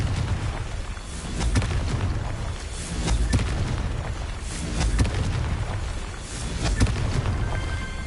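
Blasting-spell explosions in Hogwarts Legacy, a chain of loud, booming bursts and crackling impacts rolling on continuously with heavy low rumble, close and dominant.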